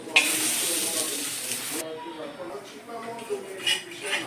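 A dosa being turned on a hot iron tawa, with a sizzle of frying batter and a few light metallic scrapes and clinks of the spatula, close and moderately loud.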